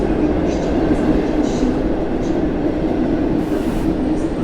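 An EP09 electric locomotive hauling an Intercity train at Warszawa Centralna station, a steady loud low rumble of rolling stock throughout with faint higher squeals and hiss above.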